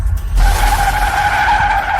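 Car tires skidding as the car spins in a fast drift during a high-speed road race, a loud sustained squeal that starts abruptly after a brief quiet moment and holds steady over a low rumble.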